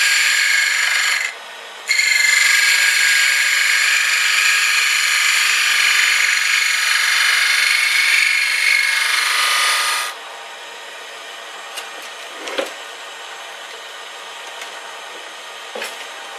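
A woodturning gouge rides the bevel while cutting a hollow wooden egg on a lathe, a loud steady scraping hiss that breaks off briefly, resumes for several seconds, then stops, leaving the quieter hum of the lathe with a few faint taps.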